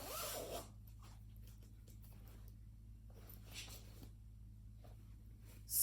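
The zipper on a case rasps as it is opened in a run of short, quiet strokes, close by, with a louder pull at the start and at the end.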